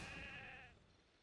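A single sheep bleat from Warcraft 3: The Frozen Throne, loud and close at the start with a wavering, buzzy tone, fading out after about three quarters of a second.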